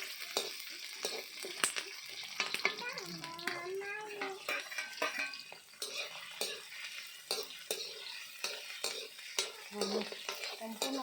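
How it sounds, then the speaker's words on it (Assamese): Onions frying in a pan for Assamese fish soup, a soft steady sizzle under frequent light clinks and scrapes of stirring, close but quiet, with a brief voice partway through. "এতিয়া আমি পিঁয়াজ ভাজি দিলোঁ।"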